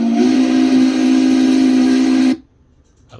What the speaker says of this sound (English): you can hear the previews of everything, like the whistle